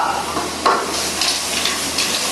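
Nagasaki baekjjambong ingredients stir-fry in a hot pan, giving a continuous loud sizzle and hiss with small scraping and tossing bursts throughout.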